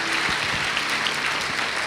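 A church congregation claps loudly and steadily, a dense wash of applause filling the room throughout.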